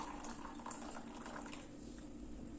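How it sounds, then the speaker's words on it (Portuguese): An electric kettle heats water with a constant low hiss and faint bubbling, a steady close background sound with no talking. "Eu já coloquei a água para aquecer aqui na chaleira elétrica."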